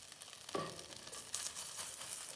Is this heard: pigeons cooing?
no